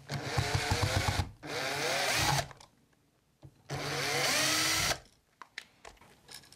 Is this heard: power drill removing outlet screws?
yes